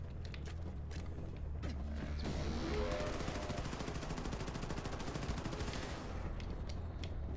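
Rapid automatic gunfire in the shooter game Wolfenstein II rattles on for several seconds amid mechanical clanks, preceded and followed by scattered quieter shots and metallic noises.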